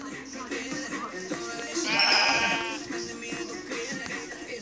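A sheep bleats in the video game Minecraft, one drawn-out wavering bleat in the middle over steady game background sound.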